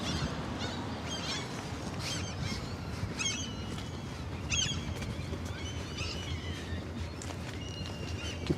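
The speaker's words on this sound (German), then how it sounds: "Gibt auf jeden Fall einige Möwen hier." Seagulls calling over a harbour basin, repeated shrill cries at moderate distance over a steady outdoor background.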